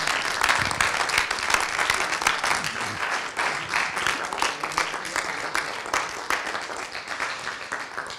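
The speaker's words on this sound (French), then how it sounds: "on peut déjà remettre une petite couche d'applaudissements à toutes ces" Sustained applause from an audience, a dense patter of many hands clapping at steady loudness, with faint voices mixed in.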